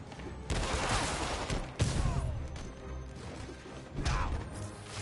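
Gunfire from criminals in the Marvel's Spider-Man video game: loud, dense bursts of shots and crashing impacts fill the stretch, with brief lulls, and a voice speaks over part of it.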